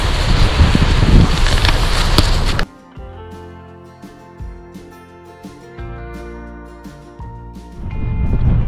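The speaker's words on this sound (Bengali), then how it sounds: "প্রচণ্ড বাতাস বাট অসাধারণ ব্ল্যাক স্যান্ড বিচের এই জায়গাটা" Strong wind buffets the microphone on a black sand beach in Iceland, a loud roaring rush for the first few seconds before it cuts off abruptly and music takes over.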